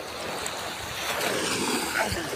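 Sea waves wash and roll at a beach in Claveria, Cagayan, a steady broadband rush mixed with wind buffeting the microphone, loud and continuous with no talk.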